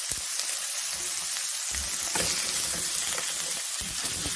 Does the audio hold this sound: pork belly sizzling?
yes